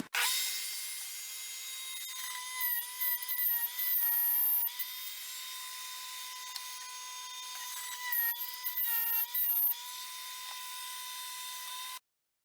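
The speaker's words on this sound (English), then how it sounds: "MDF is pretty soft, it cuts really well with these bits" A router bit cuts MDF in passes, a loud, close, steady high-pitched whine with surging cutting bursts as the bit bites into the board, stopping abruptly at the end.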